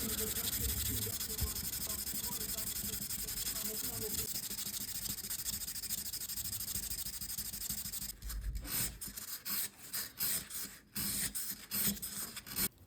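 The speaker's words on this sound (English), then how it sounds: "you don't have to watch whole hour of me sanding the watch" Continuous scratchy rubbing of sandpaper on a Seiko watch case, steady at first, then breaking into short irregular strokes with brief pauses.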